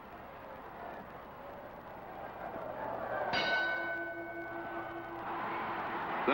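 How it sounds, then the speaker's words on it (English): A boxing ring bell ends a round in the Sugar Ray Robinson vs Rocky Graziano fight, a single clear ding struck midway that rings on with a long fading tone over distant crowd and film noise. "That blow came as the bell sounded."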